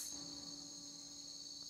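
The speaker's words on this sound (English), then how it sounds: "Also crickets." Crickets chirping in the Camp Canyonwood video game, a continuous high, shrill trill holding steady in the background with no voices present.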